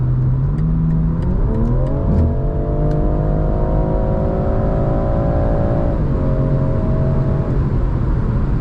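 A BMW M340i xDrive accelerates hard, its engine note climbing steadily in pitch, briefly dropping at a gear change and then pulling again, loud and close with no talking.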